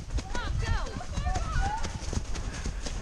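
A horse canters with rapid, rhythmic hoofbeats on the ground, close and steady throughout, while riders call out and talk over the gait.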